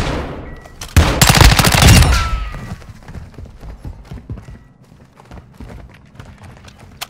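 Gunfire in a video game: a loud burst of rapid automatic shots early on, fading into scattered lighter pops and clatter, with no talking.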